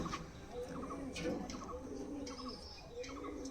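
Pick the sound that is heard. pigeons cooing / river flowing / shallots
pigeons cooing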